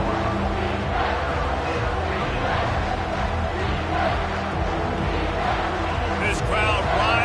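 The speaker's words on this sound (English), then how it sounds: "This crowd rising up, sensing that its defense needs some help." A football stadium crowd roars in a sustained, dense wall of cheering that swells slightly near the end, with a commentator's voice talking over it.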